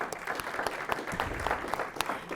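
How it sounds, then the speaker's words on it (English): A school board meeting audience gives a brief round of applause for student and staff speakers, a moderate crowd of hands clapping unevenly with some louder individual claps standing out. "let's give a big round of applause to all of our student and staff speakers"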